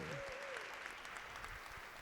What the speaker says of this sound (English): Let's give President Ritchie a round of applause again